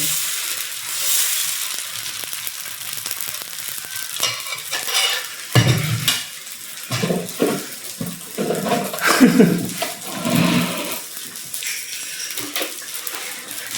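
A dosa fries in a little oil on a pan with an uneven sizzle, mixed with intermittent scraping, shuffling and wet splashing sounds close by.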